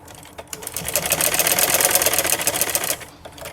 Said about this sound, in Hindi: इस तरह से इन सभी पीसेस को हम इसी तरह से फोल्ड करेंगे और इनके ऊपर हम सिलाई लगा लेंगे।